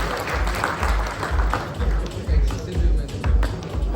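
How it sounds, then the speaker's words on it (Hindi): Steady applause from an audience at a dealer conference presentation, a dense rolling clatter of many hands with thumpy low swells, lasting the whole stretch. "जोरदार तालियां इनके लिए।"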